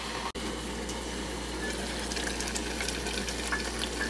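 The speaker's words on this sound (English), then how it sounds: "you can hear it's picking back up steam pretty quickly" Water in a pot on an electric stovetop coming back up to heat for spaghetti, giving a continuous rushing, bubbling hiss that stays loud and even from start to finish, with no one talking.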